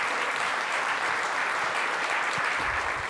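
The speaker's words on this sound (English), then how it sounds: "Big round of applause." Steady, fairly faint applause from an audience at a town hall on social assistance, continuous throughout with no voices on top.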